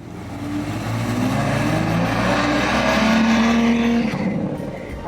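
A 2023 BMW M3 Competition with an S58 engine and a loud exhaust roars at close range, a sustained, heavy rumble that holds steady for several seconds before easing off at the end.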